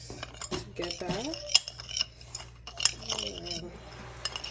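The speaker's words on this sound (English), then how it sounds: "So I'm just going to mix these peppers together." Peppers being mixed in a bowl with a utensil, clinks and scrapes of metal on dish in irregular bursts, close and fairly quiet, with some faint voice in between.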